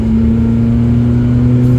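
A Renault 5TL engine accelerates hard in third gear along a country road, a loud, steady, noisy drone with a strong low hum throughout, heard from inside the car without talk.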